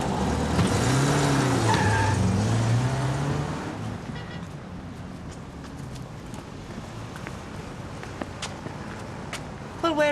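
A car on a street pulls away quickly: an engine revs loudly at first, then fades into quieter traffic and scattered footsteps, with voices talking over it.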